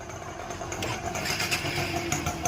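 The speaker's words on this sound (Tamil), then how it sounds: "வண்டி ஸ்டார்ட் பண்ணியாச்சு. ரேஸ் ஆகுது, இந்த மாதிரி ஆஃப் ஆகுது." A repaired Honda Shine 125 motorcycle engine, its carburettor just fixed, runs steadily at a continuous, fairly loud idle with a dense mechanical rumble and no voices over it.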